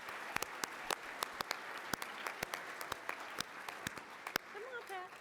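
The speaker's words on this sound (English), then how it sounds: "Let's give them a round of applause" Sparse, distinct claps from a conference audience thanking the vice chairs, individual hand strikes spaced irregularly rather than a full wash, with a brief voice near the end.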